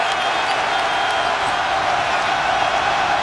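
A basketball arena crowd at a college game cheers in a dense, loud, continuous roar that holds steady throughout.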